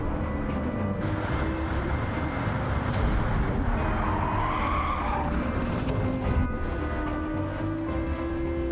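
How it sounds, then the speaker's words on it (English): In the racing game Gran Turismo 7, a car brakes too late and skids, with tire squeal layered over steady engine roar and road noise that continues throughout. "Applying the brakes too late, leading to a rear-end collision."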